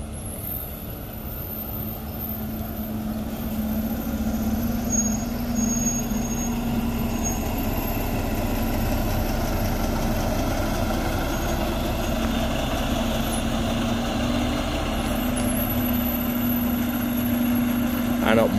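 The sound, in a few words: tour bus engine idling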